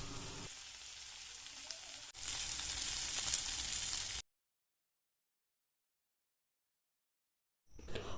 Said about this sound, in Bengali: ফ্রাইং প্যানে তেল গরম হলে বাটা মাছগুলি একে একে দিয়ে দেব।